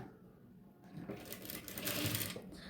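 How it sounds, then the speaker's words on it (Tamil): Domestic sewing machine stitching along the folded edge of cloth on a nighty's yoke neckline, a faint, fast mechanical whir that starts after a moment of quiet and steadily builds. "மடிச்சுட்டு கிளாத்துடைய ஓரப்பக்கத்தில் ஸ்டிச்சிங் பண்ண ஆரம்பிக்கலாம்"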